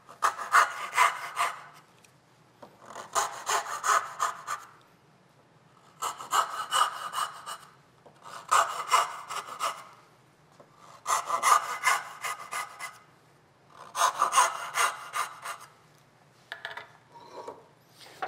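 Hand saw cutting dovetail pins and tails in wood, six bursts of rhythmic rasping back-and-forth strokes separated by short quiet pauses, close and clear.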